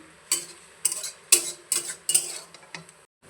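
A utensil stirs steamed leafy greens in a pot, with five or six sharp scraping, clinking strokes in an uneven rhythm, close and clear with no talk.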